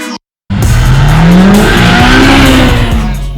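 A 2020 Polaris Slingshot Autodrive pulls away hard after a short silence, its engine loud and close, rising in pitch as it accelerates, with some tire squeal mixed in.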